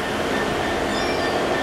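A train rumbles steadily at a platform in Cardiff Central station, with a faint metallic wheel squeal over the continuous rolling noise.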